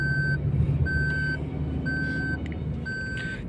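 A Toyota Glanza seat belt reminder sounds four evenly spaced single beeps, each about half a second long and clearly audible, over a low steady cabin hum.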